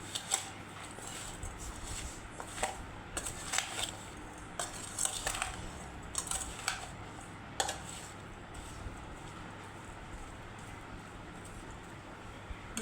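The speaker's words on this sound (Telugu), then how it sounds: "ఆవు పొడి, పసుపు, ఉప్పు వేసుకొని బాగా కలుపుకోవాలండి" Mango pickle is mixed with mustard powder, turmeric and salt, producing soft, quiet scraping and occasional light clinks of a spoon against the container, irregular and low against a faint background hum.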